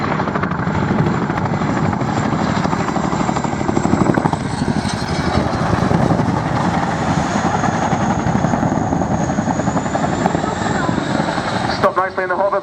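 A Chinook twin-rotor helicopter at an air display performs a nose-down 270 quick stop and settles into a hover: loud, continuous rotor and turbine roar throughout with rhythmic blade beating, while an announcer's voice runs over it.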